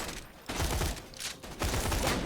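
Gunfire from a gun in the video game Borderlands 2, set in the Frostburnt Canyons, comes as a couple of loud, noisy bursts separated by brief lulls, with no talk heard.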